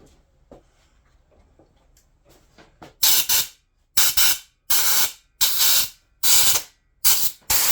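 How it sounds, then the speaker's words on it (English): Compressed airline blowing out cleaned parts from a Yamaha SRX600 motorcycle restoration: after quiet workshop handling noises, six loud, sharp bursts of hissing air, each about half a second long, separated by short pauses. "I'm just going to blow those out with the airline"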